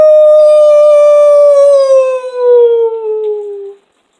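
A loud, sustained wolf howl rises and then slowly slides downward for almost four seconds before cutting off, heard clearly and alone with no talking.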